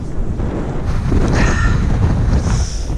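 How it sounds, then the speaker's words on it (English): Strong wind on the open moors buffets loudly and continuously, rough gusty roar with microphone rumble throughout. "that wind's definitely picked up"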